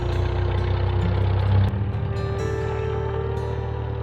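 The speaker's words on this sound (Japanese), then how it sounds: "おお、エンジンがかかったぞ。" Engine of a Cessna 172 light aircraft, just started, settling into a steady low idle drone with a brief louder surge early on, close and continuous inside the cabin.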